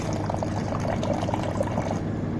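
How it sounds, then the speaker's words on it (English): Water pours steadily from a Blue Star RO+UV water purifier, a continuous close splashing stream filling a container without pause. "We dropped some amount of water."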